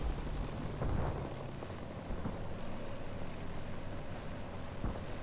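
Ammunition cooking off in Combat Mission: Cold War: a loud, continuous low rumble with a heavy burst near the start and a few duller thuds rolling through, no voices over it.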